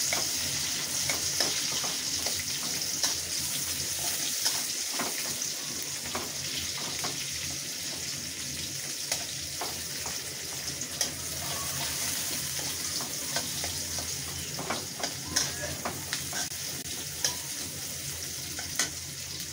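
Chopped onions sizzle in a pan on the stove while they are fried for a broken-rice dish (khuder bhat). The frying hiss is continuous, and repeated scraping stirs and clicks of the spoon break through it.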